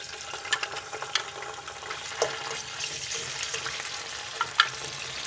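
Anchovies and garlic fry in a pan with a dense, crackling sizzle, scattered sharp pops and light stirring scrapes throughout, with no one speaking.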